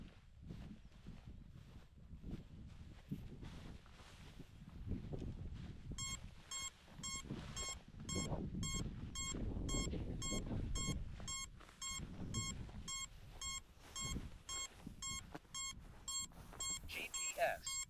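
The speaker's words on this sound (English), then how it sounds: "I got its beeper on. I can hear it." An FPV drone's locator beeper sounds in a rice field, a steady series of evenly spaced, fairly faint high beeps starting a few seconds in and repeating to the end, over rustling, footsteps and outdoor noise.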